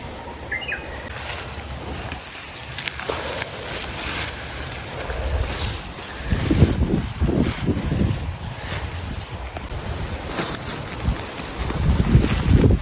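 Wind blows outdoors in a steady, broad rush that swells into stronger gusts partway through, buffeting the microphone up close.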